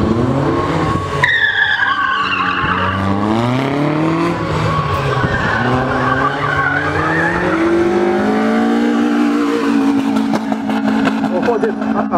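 A small, fast car skids through a speed-maneuvering course at a Mogilev motorsport event, with long, loud tire squeals rising and falling over the engine's whine, and a commentator's voice running underneath.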